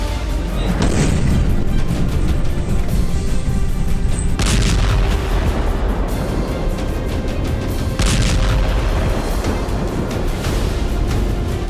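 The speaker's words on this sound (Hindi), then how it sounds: "धरती धमाकों से कांपने लगी" Russian missile and rocket strikes hit a Ukrainian city, sending out several heavy, rumbling booms spaced a few seconds apart over a constant loud roar.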